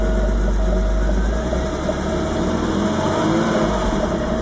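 A car engine catches and settles into a steady idle, a loud continuous low rumble with a faint whine on top, heard up close with no talking.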